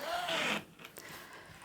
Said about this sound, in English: Close your zip.